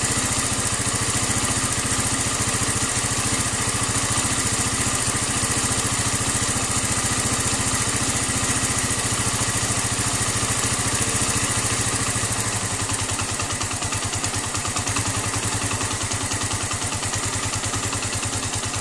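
A small engine fitted with a Nibbi 28mm carburetor idles steadily throughout, loud and close with a constant buzzing drone, its tone dropping slightly and roughening near the end as the idle is adjusted.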